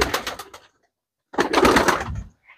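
Lalsare pigeons in a Bhopal loft, cooing in two bursts of soft throaty calls separated by a short silence, close to the listener with no talk.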